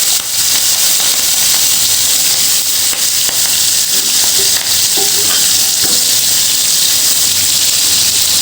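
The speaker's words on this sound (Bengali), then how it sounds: "এবার বাকি চিংড়িগুলো ভেজে নিচ্ছে ফাতেমা" Prawns frying in hot oil give a loud, steady sizzle, with a few faint scrapes and clinks from stirring in the pan.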